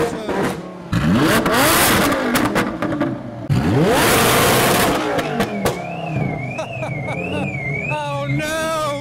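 A supercharged Lamborghini Huracan at a car show revs loudly with rising and falling engine sweeps, followed by a warbling alarm-like tone, all close and dominant.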